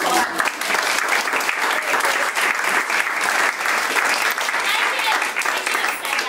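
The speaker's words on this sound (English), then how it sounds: "I have to give him a hand of applause." A close, loud audience breaks into sustained applause at a human rights speech introduction, dense clapping that stays even throughout with a faint murmur of voices underneath.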